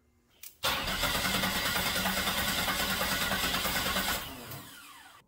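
A 3800 V6 cranks steadily on the starter for about three and a half seconds during a cylinder compression test, with an even, rapid pulsing rhythm, loud and close, then winds down and stops.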